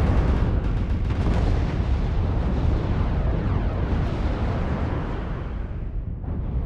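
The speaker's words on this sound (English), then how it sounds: "I'm shooting the catapult." A catapult firing during a video game battle, a dense, continuous roaring rumble with heavy low-end booming that stays loud throughout and fades slightly at the end, with no voices.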